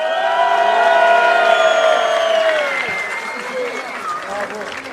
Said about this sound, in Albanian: për të cilët dua një duartrokitje të madhe